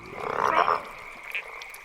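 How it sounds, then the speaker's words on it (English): Frogs near the Angus River croak in a loud, raspy burst that fades, followed by a faint second croak, close by with no talk. "imagining a couple of frogs that lived in the Angus River"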